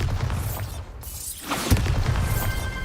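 A spell-blast explosion from a Bombarda charm lands as one broad crashing boom with a shattering, debris-like tail, set over a steady low rumble.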